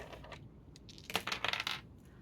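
Dice rolled during an astrology reading, giving a quick run of sharp clattering clicks and rattles that bounce and settle over about a second, close and fairly loud against a quiet room, with no talking.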